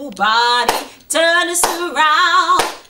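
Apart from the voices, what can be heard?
hand clapping along to a sing-along song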